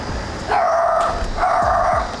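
A dog barks twice in quick succession, close and fairly loud, with a short whimpering edge and no talking.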